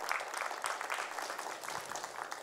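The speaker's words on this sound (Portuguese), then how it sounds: "Vamos aplaudir o Senhor, irmãos, por esta palavra tão maravilhosa" Church congregation clapping in praise after a sermon, a brief, fairly soft burst of many hands applauding together across the room.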